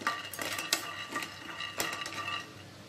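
Peanuts roasting in a pan, stirred with a metal spoon that scrapes and clinks against the pan in short irregular bursts, close and quiet, with no talking.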